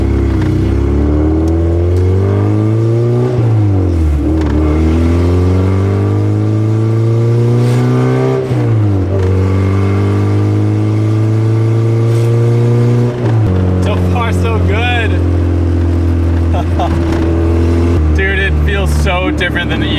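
LS VTEC-swapped Honda Civic EG hatch, its engine revving hard through repeated climbing gear pulls while driving, loud and close, with a voice talking over it.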